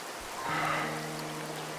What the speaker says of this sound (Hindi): अर्जुन, लेकिन देख तो सही, बारिश ने पूरा काम बंद करा दिया है।